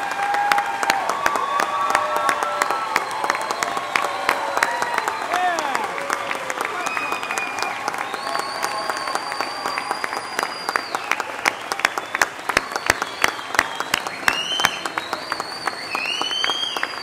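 A large crowd rises in a standing ovation at a spring commencement ceremony, its steady, dense clapping continuing for many seconds with occasional whistles and cheers layered on top, the applause holding at an even level throughout.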